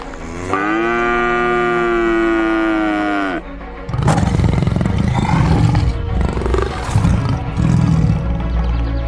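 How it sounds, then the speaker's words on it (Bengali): Tethered cows in the Sundarbans bellow loudly in fear of a tiger: one long, drawn-out moo, then a rough, growling roar and more harsh calls, all close and powerful. "বাঁধা গরুগুলো বাঘটাকে দেখে ভয়ে জোরে জোরে ডাকতে থাকে।"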